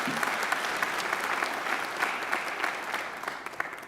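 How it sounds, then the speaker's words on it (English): Steady, dense applause from a large crowd at a graduation ceremony, loud and continuous throughout, fading slightly toward the end. "So I think David deserves another great round of applause."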